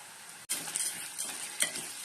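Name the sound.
toor dal frying in a pan with onions, curry leaves, dried chillies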